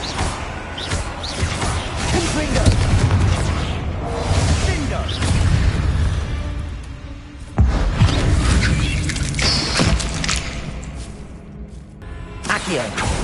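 Confringo blasting spells cast in Hogwarts Legacy, loud repeated bursts and whooshing explosions mixed with other spell effects, with a voice shouting over the action.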